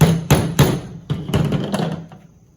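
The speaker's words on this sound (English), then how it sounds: "So all I do is I take a hammer, a flathead screwdriver, and I kind of get into this little groove as much as I can" A hammer taps a flathead screwdriver wedged into the groove of a Jeep Wrangler sway bar, giving a handful of sharp metallic knocks at uneven intervals, close and loud, with lighter taps trailing off.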